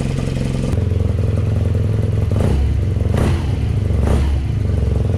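Close, loud 90 Racer motorcycle engine idling with a rapid chugging pulse, then revved several times in short surging bursts that fall back to idle.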